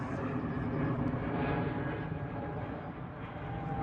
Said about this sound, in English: You waving at the plane, James?